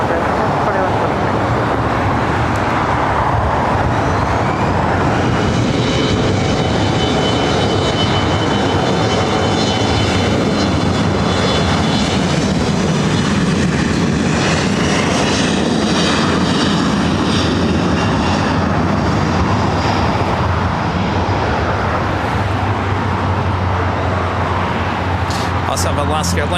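A Delta Airbus A321neo takes off at LAX, a loud continuous jet engine roar that swells and shifts in pitch over the full length; a voice talks over the noise.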